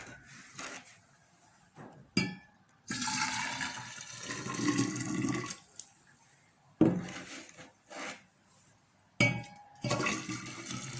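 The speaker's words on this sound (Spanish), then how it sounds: "Ahora pasaremos a mezclar 2 tazas de agua caliente y una de agua fría." Hot and cold water poured and mixed from cups, several bursts of splashing and gurgling liquid separated by quiet pauses, close by.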